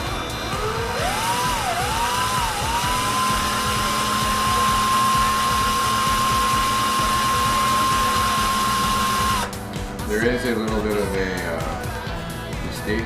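A high-pitched electric drill twisting spiral wire whines steadily at close range, its tone rising and then holding, before stopping abruptly and giving way to clattering handling noise.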